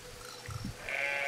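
A sheep in the video game Brothers: A Tale of Two Sons gives one short, low bleat against a quiet game ambience, followed by a faint tonal hum.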